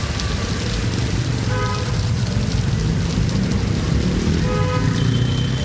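Rain falls steadily and densely across Chennai and its suburbs. The hiss is continuous and fairly loud, with no pauses, and a faint low rumble sits beneath it.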